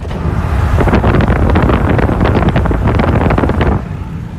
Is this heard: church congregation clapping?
no